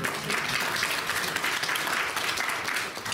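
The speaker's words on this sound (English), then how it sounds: "Let's give her a round of applause." Steady applause from a gathered group, moderately distant and even, continuing for a few seconds.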